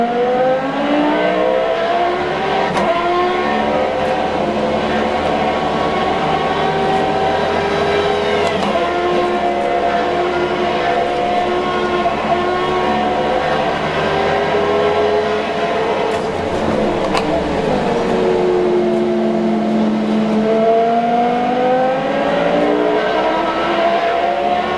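A Formula 1 car in a motion simulator racing game at Alton Park roars steadily, its engine pitch climbing and dropping through gear changes and corners across a long, loud, continuous run with no talk.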